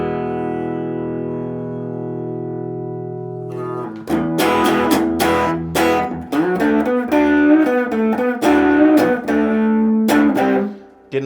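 Electric guitar played through stacked Bad Cat Siamese and Burmese Drive overdrive pedals into a clean Fender Deluxe Reverb amp: a held chord rings for a few seconds, then loud, driven strummed chords with sharp attacks follow, ending in a brief fade.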